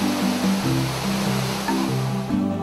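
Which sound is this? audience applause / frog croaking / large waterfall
large waterfall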